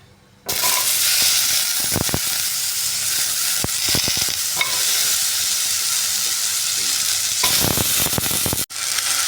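Potatoes sizzle loudly and continuously in hot oil after a five-spice tempering, close by, with a few clattering stirs of a utensil against the pan.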